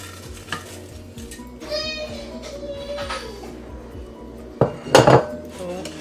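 Oreo crumb base being moved into an 8-inch springform pan, with clinks and scrapes of a utensil against metal and a short burst of clattering near the end, close and moderately loud.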